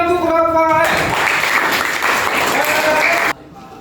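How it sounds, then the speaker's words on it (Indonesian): A burst of clapping from a group of pupils in a classroom, loud and close, following a brief voice at the start and stopping abruptly. "Tepuk tangan untuk Rafael."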